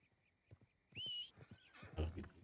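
A horse in the Red Dead Redemption 2 video game gives a short, bright whinny, with soft hoof clip-clops before it and a clattering of movement after, all at low volume.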